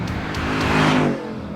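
A Ford Mustang Mach 1 V8 revs in one brief, close burst that swells and then drops away, with no speech.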